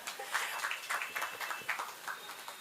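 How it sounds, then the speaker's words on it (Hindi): An audience claps at a devotional Bholenath bhajan evening, a quick scattered patter of many hands that stays fairly even for a few seconds, moderately loud and without talking. "एक बार ताली बजा दो"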